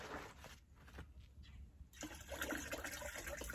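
Water runs from a garden hose in a garden, a steady broadband rush and splash that swells louder partway through, continuous and close with no talk.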